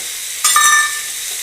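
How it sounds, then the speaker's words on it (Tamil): Curry leaves drop into hot oil for drumstick sambar and burst into a sudden loud sizzle that fades over a second, close up. "கடைசியாக கருவேப்பிலை போட்டுக்கிறேன்."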